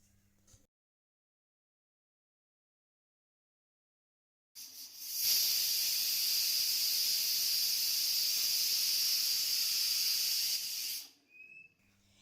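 A pressure cooker boiling new potatoes lets out a loud, steady hiss of escaping steam that holds for about six seconds and then cuts off, with near silence before and after.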